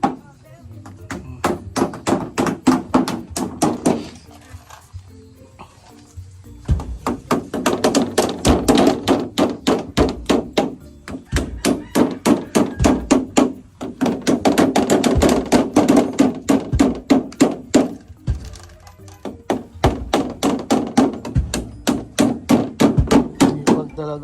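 Concrete floor being pounded and compacted with repeated sharp hammer-like blows, arriving in rapid bursts separated by short pauses, close and fairly loud with faint voices in between.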